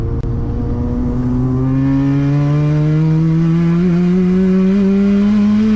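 Mazda RX-7 with a 400 HP 13B rotary engine accelerating hard in third gear, a loud, close, buzzing drone that climbs steadily in pitch across the whole stretch without a shift.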